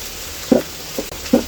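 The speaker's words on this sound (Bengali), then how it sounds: "এরপরে আমি দিয়ে দিচ্ছি হলুদের গুঁড়ো। এবার আমি এগুলো দিয়ে একটু নেড়ে চেড়ে নেব।" Ground spices with turmeric fry in a pan with a soft, steady sizzle, and three short scraping strokes of a spoon stirring them stand out close by.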